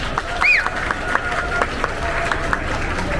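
Wedding guests applaud at a civil ceremony in a hall, with scattered steady clapping running under a whistle and some background chatter.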